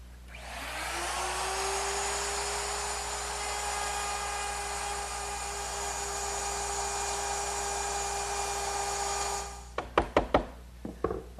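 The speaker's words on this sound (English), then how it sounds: "I just used my overarm router, which is now equipped with a 1/4 inch round nose bit" Overarm router fitted with a quarter-inch round nose bit and a feather board cutting wood along a rib fence: a steady high whine for about ten seconds, then a few sharp knocks as it stops.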